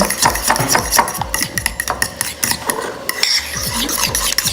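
A spoon stirs a homemade egg-and-oil hair mask, a mayonnaise-like mix, in a bowl. The stirring comes up close as rapid, repeated scraping and clinking against the bowl, with no voices.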